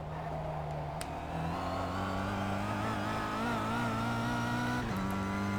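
A race car on a circuit drones steadily with a sustained engine note that shifts slightly in pitch as it passes, close and loud with no speech.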